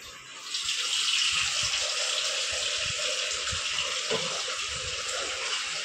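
Water runs steadily from a tap in a sink, a continuous close hiss and gush with faint knocks underneath.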